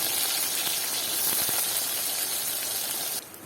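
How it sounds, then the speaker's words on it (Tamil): Eggplant pieces frying in hot oil over a village stove in Jaffna, giving a steady, dense sizzling hiss close by that drops off abruptly near the end. "கத்தரிக்காயை போட்டு பொரிச்சு எடுப்போம்"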